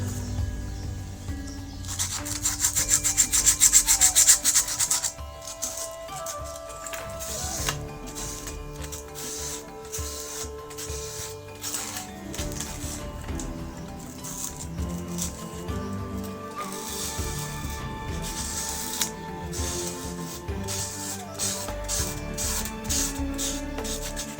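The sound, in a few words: sanding wood by hand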